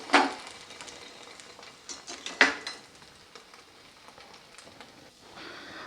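Potato spice sandwich frying on low flame in a kadai, a steady soft sizzle with a few sharp utensil clinks and scrapes near the start and middle, no talking.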